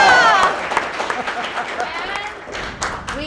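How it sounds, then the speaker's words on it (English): Crowd at a horror convention panel claps and cheers for a guest, a dense wash of applause with a voice rising briefly over it at the start. "I wanna hear applause for Jason, then Sarah, then Steve"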